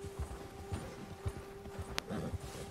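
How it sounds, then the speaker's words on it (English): A horse clip-clops at a steady trot in Red Dead Redemption 2, spooked by a bear, with hoofbeats fairly faint over a constant hum and a brief sharp tone. "The bear has spooked your horse."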